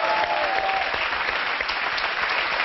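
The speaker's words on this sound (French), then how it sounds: "On vous applaudit." A French television studio audience applauds steadily, a dense wash of close, continuous clapping with no voices on top.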